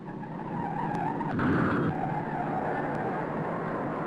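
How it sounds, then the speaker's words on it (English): A race car in the 1955 Indianapolis 500 sweeps through the fourth turn, its engine roar swelling then easing as it passes, with a brief tire squeal, heard at a moderate distance with no talk. "Cal Naiday moving through the fourth turn"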